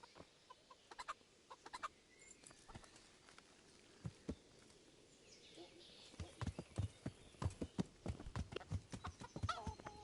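Horse hooves clip-clopping on the ground in the medieval game Kingdom Come: Deliverance, quiet at first and then a quickening run of close, crisp steps, with chickens clucking nearby.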